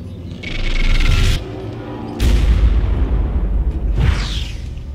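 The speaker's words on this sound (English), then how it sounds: "Bombs away!" Bombs explode in the Warhammer 40K: Regicide video game, a pair of heavy booming blasts with rushing whooshes, loud and close, followed by a third rumbling burst.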